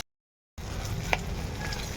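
Hilsa-like bhola fish frying in oil gives off a steady, moderate sizzle that starts after a short silence, with one sharp pop of spattering oil partway through.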